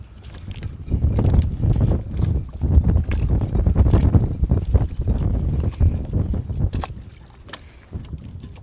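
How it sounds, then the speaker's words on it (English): Steady wind roars and buffets outdoors on a sailboat, gusting loudly for several seconds before easing off near the end; no talking. "Oh, the wind's come up. It's quite windy out here."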